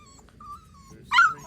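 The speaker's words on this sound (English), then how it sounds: "There's three dogs in front of you." Puppies make soft, thin whimpers, ending in a brief, louder yelp close by.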